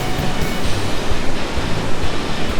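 The Nam Tok Hew Narok waterfall in Thailand roars close and loud in a steady, unbroken rush of falling water with no voices over it.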